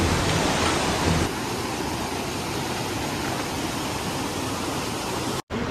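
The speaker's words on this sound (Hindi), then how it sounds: "यहाँ आकर पता चलता है कि पानी कितनी जोरों से बह रहा है।" Water rushes strongly through a forest stream in a dense, steady roar that stays loud and close, slightly fuller at the start, with no voices.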